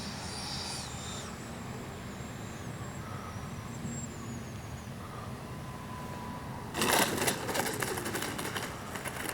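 Freewing 90mm T-45 RC jet on its landing approach with flaps down, a steady electric ducted-fan whine at a distance that swells into a louder, rougher rush near the end, no talking.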